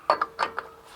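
Ratcheting metallic clicks from a wrench undoing a nut on a Discovery 1 front axle, four short bursts in an uneven rhythm, close and moderately loud.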